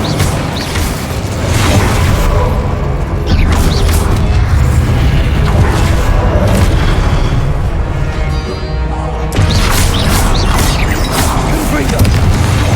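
Incendio fire spells and other spell blasts in the video game Hogwarts Legacy during a fight with a giant guardian, a constant loud stream of booming crackling impacts and bursts, close and dense throughout.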